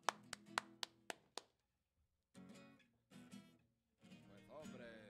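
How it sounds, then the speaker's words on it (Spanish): A few sharp, separate hand claps ring out in a quick run at the start of a Galician-story comedy routine as a comedian from Spain is welcomed, then stop before voices take over. "Con un fuerte aplauso recibimos a España."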